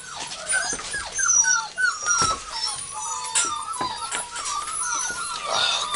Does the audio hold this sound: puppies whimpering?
yes